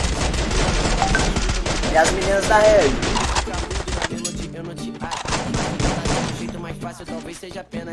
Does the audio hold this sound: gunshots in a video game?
yes